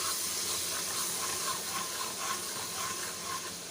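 Ginger-garlic paste frying in a pan gives a steady, close hiss and soft sizzle that runs unbroken throughout, with no voices over it.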